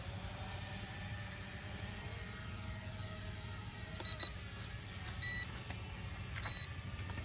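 A Sharper Image toy drone flies and lands: a quiet, steady high-pitched motor whine, faint and even, with a few short electronic beeps toward the end.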